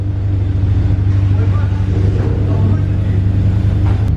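Loud engine of a Honda Accord Euro, a close, steady low rumble that drones throughout.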